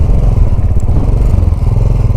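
Royal Enfield 535 Continental GT single-cylinder motorcycle idling after a kick start, a loud, close, low rumbling thump that pulses steadily with no voices.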